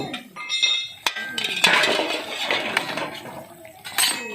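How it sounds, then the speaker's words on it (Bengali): A metal lid comes off a cooking pot where fish curry is simmering with water, giving a few close clanks and clinks of metal on metal among soft kitchen clatter. "এবারে আমি ঢাকনাটা খুলে নিচ্ছি"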